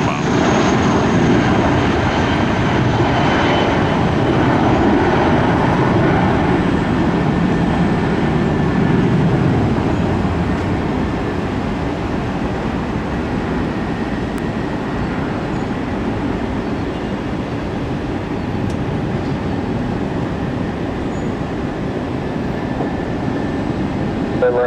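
A Spirit airliner takes off at Tampa airport, its engines producing a loud, sustained broadband roar that builds and then slowly fades, with radio voices talking over it.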